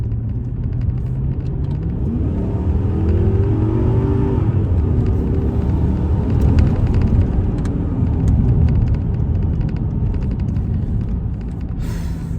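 A Mercedes-Benz CL500 V8 engine accelerates hard, deep and rumbling, pitch rising through gears, loud and close with a steady throaty roar.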